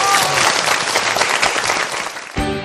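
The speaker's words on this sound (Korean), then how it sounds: "그럼 거두절미하고 우리 한국 철학의 대부이신 김영석 교수님의 명강의를 여러분의 박수로 청해 듣도록 하겠습니다." An audience at a Korean lecture applauds to welcome a 97-year-old philosophy professor, with dense, continuous clapping that stays loud throughout before a voice briefly cuts in near the end.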